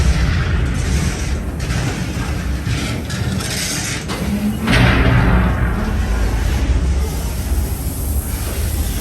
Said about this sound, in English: I've set the charges. It's too late. They're ready to blow.